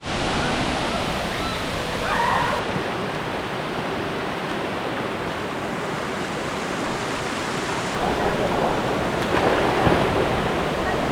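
A waterfall on Siquijor in the Philippines gives a steady, close roar of rushing water, a dense unbroken wash that swells slightly in places over about eleven seconds.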